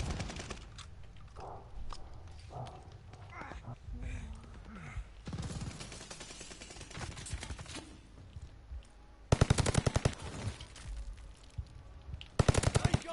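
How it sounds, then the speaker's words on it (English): A railgun fires in the shooter game Vanguard: loud, sharp rapid bursts come in two clusters near the end, after a stretch of quieter game sounds and scattered effects under a voice. "this gun sounds so hard hitting though. The railgun."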